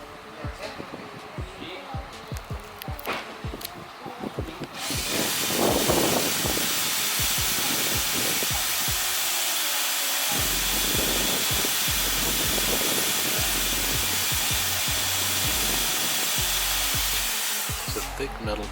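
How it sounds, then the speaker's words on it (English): Power drill boring through the thick metal roof of a Toyota Tundra during a roof rack install, a loud continuous whining grind that starts partway in and holds steady, with scattered clanks and tapping before it. "Yeah, they're drilling the hole on the roof right now."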